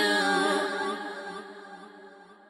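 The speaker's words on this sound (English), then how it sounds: "I also have Pan Man, which is going to make the effect go like this." A sung vocal with a delay auto-panned by Pan Man in Pro Tools sustains and slowly fades, sweeping between sides, with a sharp click at the very end.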